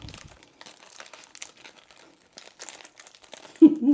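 Parchment paper crinkles and rustles in close, steady bursts while being folded around a steak lettuce wrap, ending in a louder crunch of handling.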